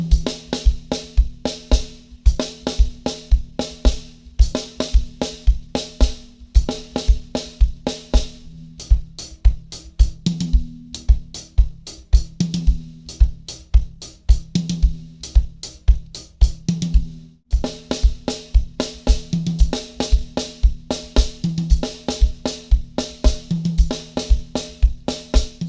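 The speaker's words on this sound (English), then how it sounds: "playing just the left hand pattern sounds something like this" Left-hand groove pattern on a keyboard, repeated bass and chord notes in a tight, steady rhythm that plays on alone for about twenty-five seconds with a brief pause midway.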